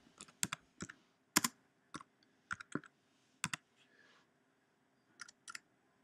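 Computer keyboard typing during prepress artwork work: sparse, irregular clusters of crisp key clicks, close and quiet, with short pauses between bursts.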